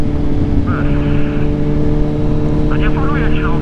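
Car fitted with a cheap aftermarket exhaust bought from AliExpress for 850 zł, droning steadily and loud throughout while people talk over it inside the cabin.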